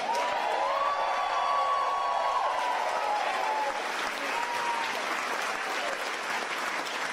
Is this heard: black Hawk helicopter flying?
no